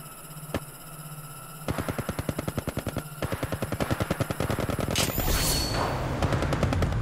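Rapid automatic gunfire bursts in Apex Legends Mobile, loud and close, with sustained strings of shots building into dense overlapping fire and a sharp burst near the end.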